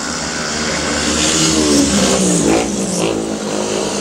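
Speedway motorcycles in a 1999 Knock Out Cup quarter-final race loudly past, their engines a continuous roaring drone that rises and falls with no speech.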